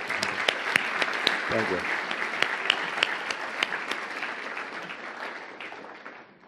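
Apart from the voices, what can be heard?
applause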